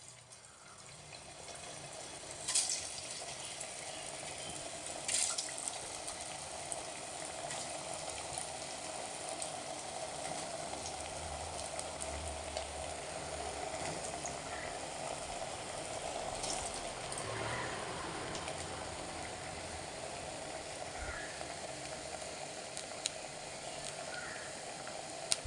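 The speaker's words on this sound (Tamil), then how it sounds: "ஒவ்வொரு வடையாக எண்ணெயில் போட்டு பொரிச்சு எடுத்துக்கலாம்." Curry leaf vada, lentil fritters, frying in hot oil with a faint, steady bubbling sizzle and occasional soft clicks throughout.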